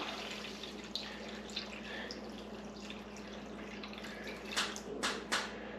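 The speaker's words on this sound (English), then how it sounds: "we are going to pour our pickling liquid over it" Pickling liquid pours steadily into a container over bologna, a continuous watery trickle with a few brief splashy surges near the end; no talking.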